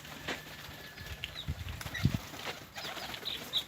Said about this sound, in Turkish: Yiğit kuşları dağıttı